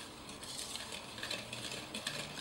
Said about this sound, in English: Using a whisk, I will mix the ingredients together.